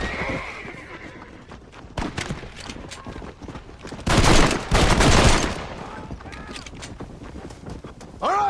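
Bursts of gunfire crackle through a Red Dead Redemption gunfight, with horses whinnying and hooves clopping amid the shooting and a loud volley in the middle.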